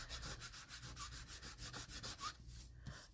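Oil or acrylic pastel rubbed into an index card by finger, a faint rapid rhythmic scrubbing close by, then a brief pause and a few lighter strokes.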